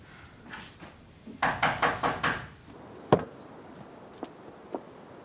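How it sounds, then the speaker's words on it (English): A quick run of five firm knocks on a door, then a single sharp bang and a couple of lighter taps in a quiet room. "Jamie, would you please just answer the door?"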